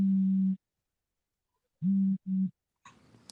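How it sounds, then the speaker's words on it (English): Someone's phone rings with a steady electronic tone, one longer burst followed by two short ones after a pause, before a brief noisy rustle at the end. "Oh, you getting a phone call, huh?"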